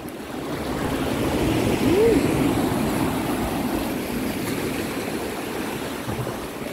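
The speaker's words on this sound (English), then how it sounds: "I am surrounded by water." Water flows all around on the Massachusetts shore near Salisbury and Plum Island, a steady broadband rush like surf or a stream that holds an even level throughout, with wind mixed in.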